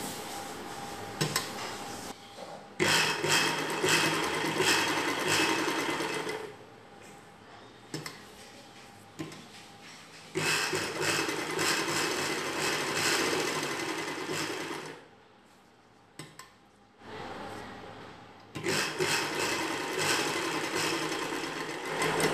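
A sewing machine stitches a girl's night dress in several loud bursts of rapid mechanical whirring, separated by short quiet pauses and light clicks between runs.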